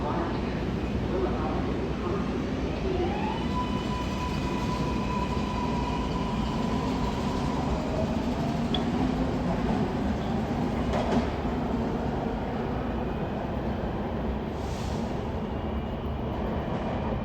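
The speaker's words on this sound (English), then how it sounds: "Gold Line train is approaching the station." MARTA Gold Line train approaching the West End station platform, a continuous loud rumble with rising tonal whine and wheel squeal building throughout, steady and close, with station announcements and voices underneath.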